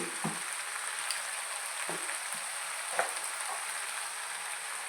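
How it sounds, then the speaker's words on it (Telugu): Brinjal and broad beans fry in a pan with a steady, dense sizzle, punctuated by a few soft scraping stirs, close and continuous with no voices. "ఇలా బాగా ఫ్రై చేసుకోవాలి ఇదిగోండి బాగా ఫ్రై అయ్యింది కదా"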